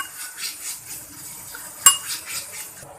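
Soaked plums being stirred into Sindhi biryani masala, a spoon scraping and clinking against a metal pot in steady rhythmic strokes, with one sharper clink near the middle, close and moderately loud with no voices.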